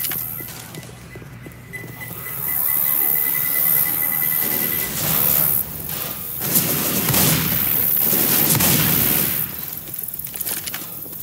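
A grenade blast and rapid gunfire erupt in Left 4 Dead 2, dense and loud, with heavy booms and chaotic clatter layered over continuous game sound effects.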